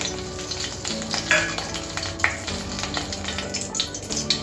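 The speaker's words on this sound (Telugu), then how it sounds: "ఇప్పుడు ఆయిల్ వేడైంది కదా, 2 యాలకులు, అలాగే దాల్చిన చెక్క, 2 లవంగాలు, 1 బిర్యానీ ఆకు," Whole cardamom pods, cinnamon stick, cloves and a bay leaf frying in hot oil for an aloo matar pulao, giving a steady close sizzle with a few sharper pops and light stirring scrapes, no talking.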